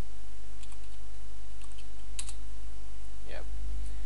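Typing on a computer keyboard, a few light scattered key clicks under a loud low electrical hum, with a brief voice near the end.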